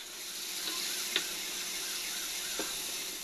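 Steady sizzling of eggplant slices frying in hot oil, with a couple of brief clinks of a utensil against the pan.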